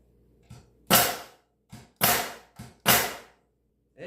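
A Senco air-powered stapler fires staples into wood: five sharp pneumatic bangs with short hissing tails, loud and close in an irregular rhythm, with no voices.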